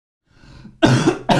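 A man clears his throat softly, then lets out two sharp, close coughs in quick succession.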